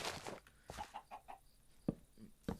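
Chicken clucking in Minecraft: a faint series of short, separate clucks spaced irregularly across a quiet background, with no speech.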